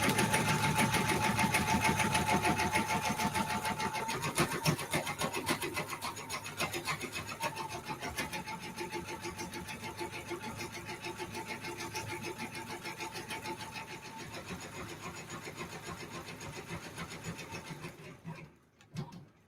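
An embroidery machine stitches a basting line around a quilted Christmas gingerbread design, a loud, steady mechanical whir with rapid needle chatter that runs continuously for nearly the whole stretch before stopping near the end.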